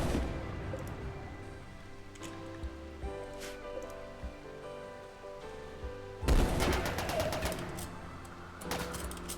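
Gunfire in the video game RimWorld, scattered single shots early, then a loud rapid burst of rattling fire near the end over a droning musical background.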